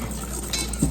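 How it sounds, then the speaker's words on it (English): Cake-in-a-mug batter being whisked, a brief rhythmic scraping and clinking of utensil against bowl, close and moderately quiet. "So I'm actually going to whisk that together"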